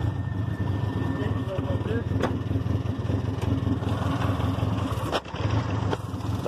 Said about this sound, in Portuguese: Vê o motor dele.